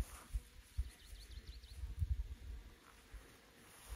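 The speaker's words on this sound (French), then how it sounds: "Il y a un bruit d'insectes de partout." A steady insect buzz hovers in the background of an abandoned village in Perillos, with soft irregular thumps and rustles rising and falling around it, no voices.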